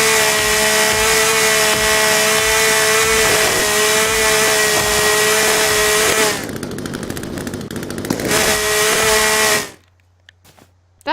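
Chainsaw in The Forest video game running loud and steady with a sustained buzzing whine, briefly shifting in pitch and texture partway through before cutting off abruptly into near silence.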